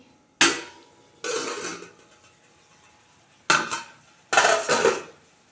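Lid lifted off a pot of cooking tomato chutney: four separate metallic clatters and rattling scrapes, each sharp at the start and trailing off, with quiet pauses between.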